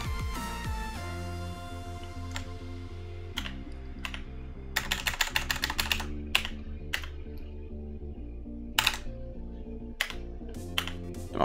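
Computer keyboard keys clack in irregular bursts, including a fast run of rapid presses and scattered single taps, close and crisp over a steady droning game soundtrack while playing DOOM 64.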